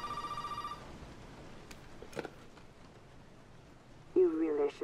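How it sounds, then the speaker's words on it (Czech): An in-game telephone rings in Resident Evil 7, with a short electronic trill at the start and another burst near the end, faint under someone speaking over quiet ambience. "Teď najednou zvoní telefon."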